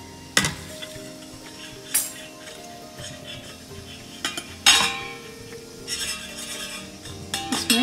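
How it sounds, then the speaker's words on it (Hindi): Rice flour is mixed little by little into freshly boiled water in a pot for idiyappam dough, with soft stirring scrapes and occasional sharp clinks of a spoon against the vessel, close and moderately quiet. "थोड़ा थोड़ा चावल का आटा डाल के मिक्स करना है।"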